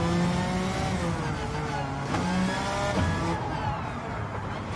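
A high-revving engine in Gran Turismo 7 climbs and drops through aggressive gearbox shifts, loud and continuous, with the pitch sweeping up and breaking at each change.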